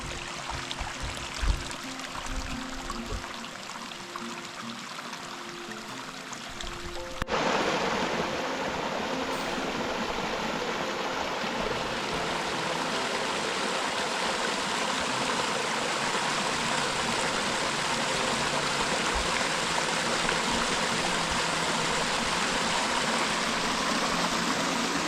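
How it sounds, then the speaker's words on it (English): A small creek running down a mountain trail in Idaho's Big Horns, a steady broadband rush of flowing water close by, louder after an abrupt shift partway through, with no voices. "Nice little creek coming down right here"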